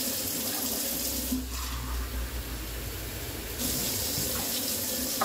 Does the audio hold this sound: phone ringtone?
no